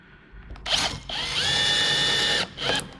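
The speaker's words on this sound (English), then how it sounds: "And the drill with the screw." Power drill driving a screw into timber: a short whir, a brief pause, then a long sustained whine as the screw bites in, ending with a quick final burst, close and loud.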